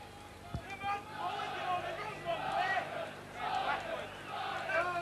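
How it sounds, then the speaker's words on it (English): A rugby league crowd behind the posts at a Widnes v Leeds match shouts in swelling waves, heard at a distance beneath a commentator's voice. "Crowd to my right behind the post shouting Liners"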